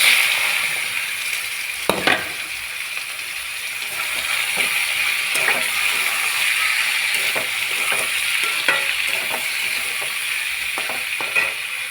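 Ash gourd pieces frying in hot oil with bay leaf and cumin, a steady close sizzle throughout with occasional sharp clicks and scrapes of stirring.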